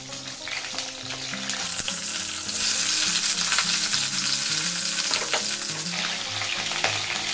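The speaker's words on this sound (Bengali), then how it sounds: "এবার আমি একটু ফুলকপি ভেজে নেব" Cauliflower pieces fry in hot oil, a steady crackling sizzle that grows louder midway, with occasional clinks and stirring scrapes.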